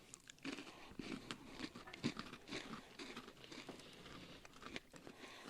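Someone bites into a crunchy Buffalo blue cheese baked pretzel, with a few close, brittle crunches and chewing over about five seconds, quiet and with no talk.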